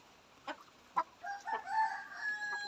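A native hen clucks after laying an egg, starting with a couple of short, sharp clucks and then drawn-out, wavering calls, fairly close against a quiet background.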